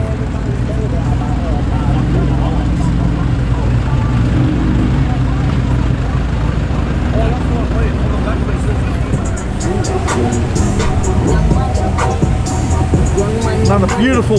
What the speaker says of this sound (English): Another beautiful Beamer.